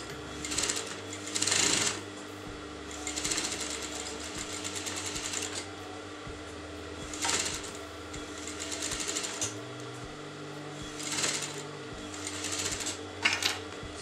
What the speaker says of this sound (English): So now you're going to sew the inner edge of the neckline,